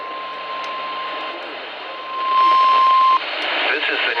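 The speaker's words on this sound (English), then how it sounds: "The preceding signal was a test" A National Weather Service EAS test alert signal: a steady piercing 1 kHz tone over a noisy radio background, ending abruptly before an announcer begins talking.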